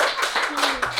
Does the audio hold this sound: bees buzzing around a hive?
no